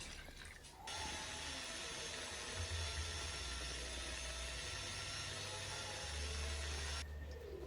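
An electric blender grinds watermelon and ginger with sugar and water, a steady, loud whirring roar that starts abruptly, runs for about six seconds, then cuts off.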